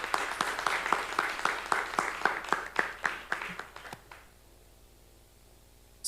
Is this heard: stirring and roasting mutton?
no